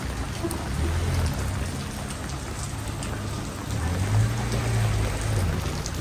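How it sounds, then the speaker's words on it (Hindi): Heavy rain pours steadily in Istanbul, a dense, even hiss of drops on surfaces with a low rumble beneath, loud and continuous throughout with no voices. "सुबह से बारिश रुकने का नाम ही नहीं ले रही।"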